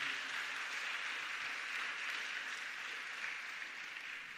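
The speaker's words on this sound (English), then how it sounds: "I want to give the Prime Minister a round of applause, sir" An audience applauds the Prime Minister, Dr. Keith Rowley, at a public conversation event, a soft, even wash of distant clapping that holds steady throughout without voices.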